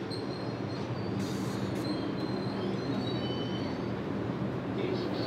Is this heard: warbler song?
no